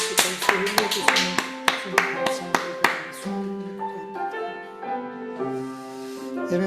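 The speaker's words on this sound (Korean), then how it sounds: "하나님께 감사와 영광의 박수 올려드립니다" A church congregation at a Wednesday worship service claps, giving a short burst of sharp, rhythmic hand claps, fairly close, then fading as sustained tones take over.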